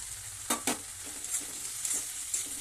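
Gobindobhog rice is stir-fried in spice paste with oil in a pan, giving a steady close sizzle broken by a few sharp scraping stirs of the spoon.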